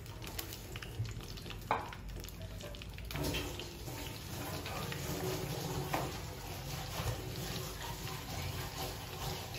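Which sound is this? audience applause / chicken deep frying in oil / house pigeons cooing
chicken deep frying in oil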